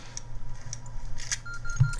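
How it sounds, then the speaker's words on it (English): Mines in the Respawnables video game emit short, electronic beeps in a quick irregular series, sitting over a low steady hum and faint background game noise. "I think the mines are making that beeping noise."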